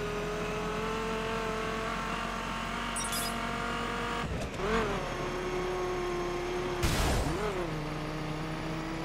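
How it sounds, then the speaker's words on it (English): In the racing game The Crew, a car drives over snow with a constant engine drone and tire roar, rising in two brief surges as the pitch bends. "Although I really like the sound of tires on snow."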